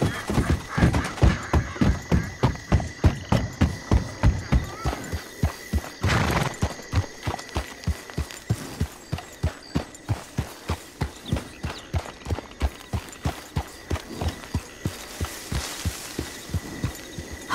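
Horse hooves clip-clop in Red Dead Online, a steady rapid rhythm of loud, close thuds at a trot or gallop. A brief noisy burst comes partway through, and there are no voices.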